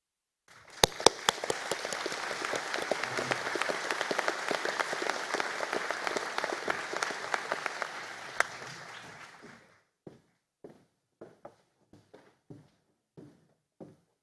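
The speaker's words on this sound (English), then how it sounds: "we'll just give Pádraig and his supervisor a round of applause there before they return to their seats" At a university conferring ceremony, an audience applauds a graduate and his supervisor: an early burst of sharp claps grows into dense, steady applause, then thins to a few scattered, isolated claps before fading.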